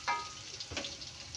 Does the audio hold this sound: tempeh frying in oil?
yes